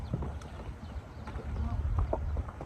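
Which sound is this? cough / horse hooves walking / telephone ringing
horse hooves walking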